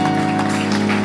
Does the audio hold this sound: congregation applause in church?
yes